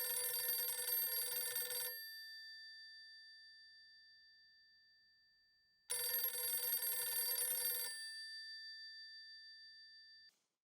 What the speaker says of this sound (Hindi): अभी घर के फोन में नट्टू काका ने फोन किया और मेरे मोबाइल में तू फोन कर रहा है।